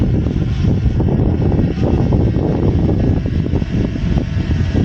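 A FIMI X8 Mini V2 drone comes in to land on its landing pad, giving a loud, steady propeller whir with wind buffeting. The whir stays close and continuous throughout.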